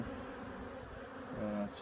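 Honeybees buzz steadily in a dense, close drone during a hive inspection, a continuous hum that swells slightly near the end, with no talking.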